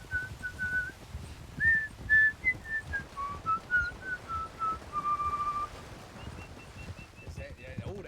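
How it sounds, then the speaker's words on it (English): A person whistles a tune in clear, sustained notes that step up and down in pitch, moderately close and fairly quiet, with brief pauses and some breath and background noise between phrases. "That's what the kid's been whistling, eh?"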